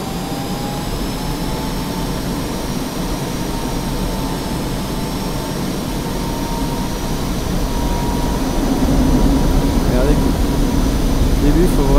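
An F-5E jet in the DCS flight simulator rolls for takeoff, its engine a loud, steady roar with a thin high whine that swells gradually as thrust builds.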